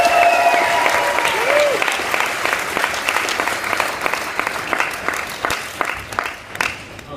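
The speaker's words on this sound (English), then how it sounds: "So if we can all please give him a round of applause" An audience bursts into loud, dense applause welcoming a man onto a business tour stage, sustained for several seconds with scattered sharper claps and a few whoops before gradually thinning.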